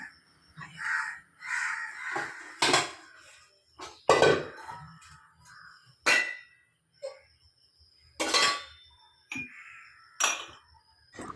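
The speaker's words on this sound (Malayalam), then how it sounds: "ആദ്യമേ തന്നെ കഴുകി വെച്ചിരിക്കുന്ന പാത്രങ്ങളെല്ലാം എടുത്ത് ഒതുക്കി വെക്കാമെന്ന് വിചാരിച്ച്" Washed dishes clink and clatter as they are stacked away in separate bursts every couple of seconds, close by, with no one talking.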